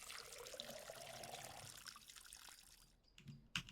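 Plants get watered in the video game Schedule 1, a soft trickling pour of water that runs for about two and a half seconds and then fades, followed by a few quiet clicks.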